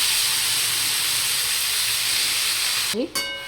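Two spoons of oil frying in a pan for a malai methi dish, a steady loud broadband hiss and sizzle running throughout before a brief clatter near the end.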